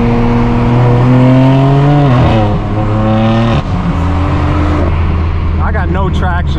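A straight-piped BMW M4 F82 accelerating hard, its loud exhaust rising through the gears with sharp shift breaks, then settling into a deep drone with pops and crackles; close and continuous.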